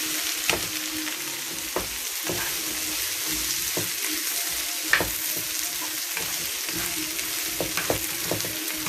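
Marinated beef stir-frying in a pan, a continuous close sizzle with occasional scraping stir strokes, steady throughout with no voices.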